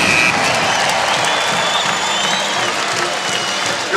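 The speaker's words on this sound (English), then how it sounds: "a hard-fought win in front of a sellout crowd today in Morgantown" A sellout basketball crowd in Morgantown applauds and cheers after a hard-fought home win over Kansas State, a dense, steady roar of clapping heard from inside the arena.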